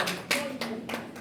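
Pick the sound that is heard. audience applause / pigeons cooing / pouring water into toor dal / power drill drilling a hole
audience applause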